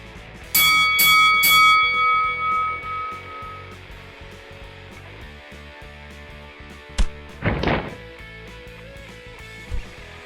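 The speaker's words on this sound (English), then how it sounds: "there is the bell" Boxing ring bell in a Second Life virtual wrestling match, struck in several quick, bright clangs that ring out briefly, followed by a few scattered thumps over a busy background.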